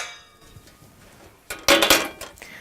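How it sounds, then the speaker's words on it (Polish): A metal plate is set down onto the supports of a Russell Hobbs raclette grill, giving a short burst of bright metallic clattering and clinking after a quiet moment. "Nakładamy płytę metalową na wierzch podpórek"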